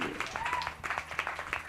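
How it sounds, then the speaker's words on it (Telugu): A congregation at a Christian church service claps loudly in praise of God, a run of sharp, close hand claps mixed with voices from the gathering. "గట్టిగా చప్పట్లు కొట్టి దేవుని ప్రైజ్"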